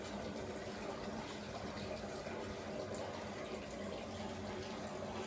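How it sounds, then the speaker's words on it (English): Tap water running into a bathtub that is filling for a laundry soak, a steady, fairly quiet rushing gush that continues unchanged throughout with no voices. "you can see where my tub is already filling up with water"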